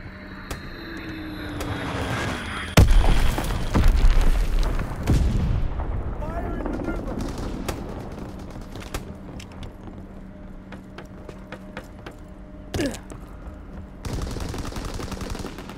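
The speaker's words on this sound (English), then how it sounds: "Dropping Azon bomb." An Azon guided bomb falls and explodes in Call of Duty WWII, with aircraft drone and scattered gunfire around a heavy blast, followed by lingering rumble and sporadic distant shots.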